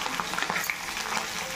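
Fish frying in hot oil in a pan, a close, dense crackle of small pops and sputters over a short stretch with no voices.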